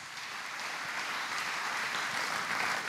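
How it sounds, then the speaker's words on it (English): A church congregation applauding during a healing service, a dense, even wash of many hands clapping, steady and fairly loud throughout with no voices on top. "Clap for Jesus Christ."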